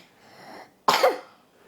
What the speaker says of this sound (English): What's with that cough coming back, mister?